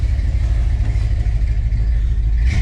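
A Dodge Coronet with a newly fitted exhaust idles in cold weather, a loud, close, deep steady rumble with a slight lift in revs near the end.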